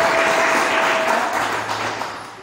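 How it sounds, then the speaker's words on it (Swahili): Applause for the Lord in a church congregation, a dense wash of many hands clapping together that stays loud and then slowly fades. "Pigie Bwana makofi na Yesu akubariki."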